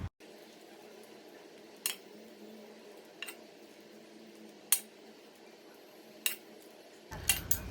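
A big spoon clinks against a metal pot or dish as dhokla batter is added little by little, giving a few sharp, sparse taps over a quiet background.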